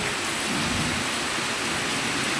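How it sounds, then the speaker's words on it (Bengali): Rain falls on a tin roof during a Malaysian downpour, an unbroken roar of patter with a deep low rumble running underneath, close and even throughout. "টিনের সাউন্ডে তবে ঘুম পেরে ভালোই লাগে"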